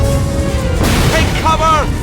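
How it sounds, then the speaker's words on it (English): A bomb goes off in the video game Broken Sword 3: The Sleeping Dragon: one broad, booming blast under a steady game backdrop, followed by a short voice exclamation. "Bomb! Get down!"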